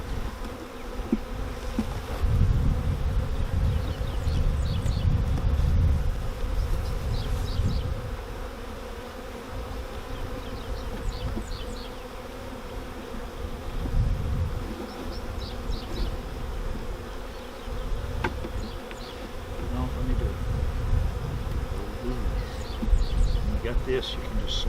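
A swarm of honeybees hums loudly and continuously while being moved into a new hive, a dense close drone rising and falling in waves, with faint indistinct voices now and then.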